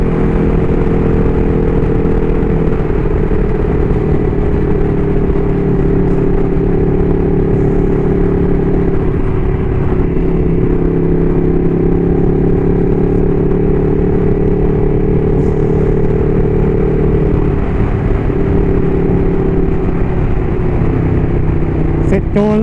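Ducati V2 motorcycle being ridden, its engine droning loud and steady with shifting pitch as it accelerates, with wind rush throughout and a rider talking over it.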